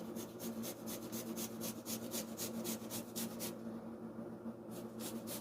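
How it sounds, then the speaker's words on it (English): A garlic clove is scraped for guacamole in quick, even strokes, a faint rhythmic rasping that pauses briefly before starting again. "Garlic has to be scraped like this."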